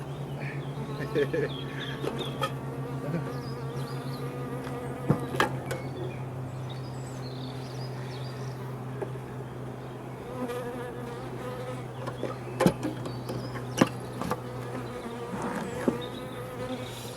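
Honeybees buzz steadily and densely during a hive inspection after a hard winter, a continuous close drone with scattered sharp knocks and handling clicks throughout.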